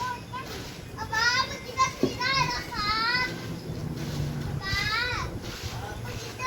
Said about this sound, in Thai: เด็กๆก็ยังเล่นกันอยู่นะคะ